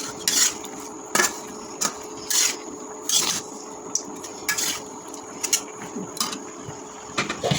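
A spatula scrapes and knocks repeatedly against a pan while sweet potato leaves and chillies are stirred and sautéed, in a steady rhythm of close metallic strokes over a faint background hum.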